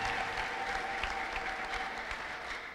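A church congregation claps together steadily at a revival service, a dense continuous wash of many hands that holds at an even level throughout with no voices standing out.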